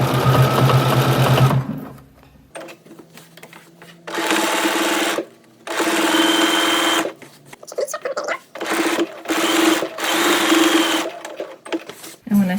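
A sewing machine stitches across the bottom of a scrap-fabric catch-all bag in bursts of steady whirring, pausing between runs, with a person talking over and between the stitching.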